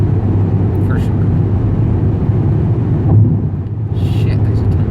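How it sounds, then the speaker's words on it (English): Heavy traffic on a Saturday toll road heard from inside a moving Volkswagen Mk6 GTI with a K04 turbo upgrade, a continuous low road and engine rumble with passing vehicle swells. "there's a ton of traffic"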